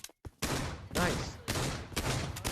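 Repeated gunfire in the Pavlov VR shooter with a shotgun sniper build, several loud broadband bursts in quick succession with brief gaps between them.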